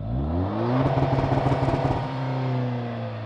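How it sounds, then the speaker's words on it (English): Outside a 2024 Toyota Land Cruiser with a single low exhaust tip, the engine rises in pitch as it revs, then settles back to a steady drone, moderately loud and alone. "So we only have like one exhaust tip at the bottom sticking out. We should probably take a listen to the outside."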